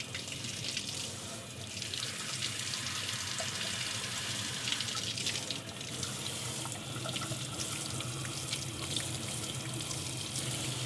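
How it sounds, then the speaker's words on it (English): Hot water runs steadily from a sink faucet, a constant hissing splash that stays even and fairly close for the whole stretch, with no talking. "Get some hot water going."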